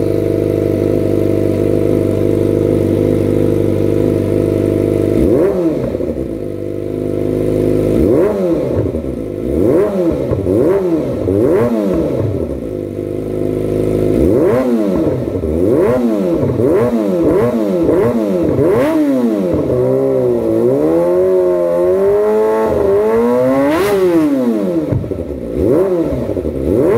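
A 250cc motorcycle with a Yakuza aftermarket exhaust, first idling steadily, then revved repeatedly in sharp rising and falling blips, loud and close with no talking.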